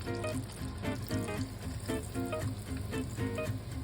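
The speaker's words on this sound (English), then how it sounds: "Gently add the croquettes a few at a time. Fry until beautifully golden brown and perfectly crispy." Jalapeño popper croquettes frying in hot oil, a steady soft sizzle and bubbling heard faintly and evenly throughout, with no voices.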